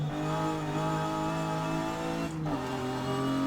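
Car at full throttle in Forza Horizon 5, its engine droning loudly and climbing steadily in pitch, then dropping briefly at a gear shift before pulling again, with no talk over it.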